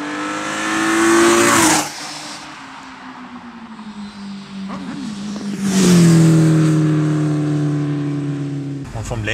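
BMW E86 Z4M Coupé with a 343 PS engine and Eventuri intake, heard from inside as it accelerates hard through rising revs, pauses at gear changes, then pulls again loudly toward the end.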